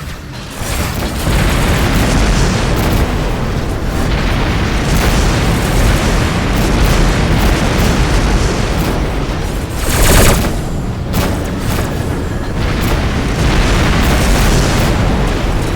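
Missile explosions in the space combat game Rebel Galaxy make a dense, continuous roar of booming blasts and rumbling impacts, loud and sustained, with a stronger burst near the middle and no talk over it.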